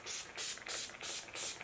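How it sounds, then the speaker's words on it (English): Urban Decay All Nighter setting spray misted onto a face, five quick close hissing pumps in a steady rhythm, each a short bright burst of spray with no talking. "a little spray of all-nighter spray from Urban Decay"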